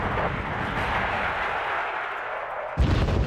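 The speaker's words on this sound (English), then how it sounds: "Artillery is still firing on the Soviets." Sustained booming artillery fire from a Wargame: Red Dragon battle, a dense rumbling wash of distant cannon blasts with a sharper, louder burst near the end.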